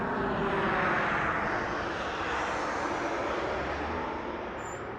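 Jet airliner taking off at Las Vegas Harry Reid International Airport, a steady broad engine roar heard from a distance that stays loud throughout and eases only slightly toward the end.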